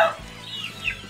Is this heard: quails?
yes